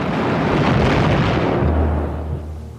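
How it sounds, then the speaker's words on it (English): A naval shell explodes against the German battleship Scharnhorst in a long, loud roaring blast that rumbles on for a couple of seconds before a low hum takes over. "his ship is rocked by an explosion as one of Norfolk's shells knocks out her forward radar"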